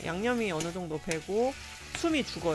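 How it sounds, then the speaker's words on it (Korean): Fish cakes stir-frying in a pan with sugar seasoning give a steady, close sizzle that runs beneath continuous talking. "지글지글 소리 나시죠?"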